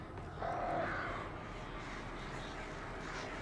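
A crow caws a few times in the video game Alan Wake, harsh calls near the start over a steady low ambient hum, with no talking.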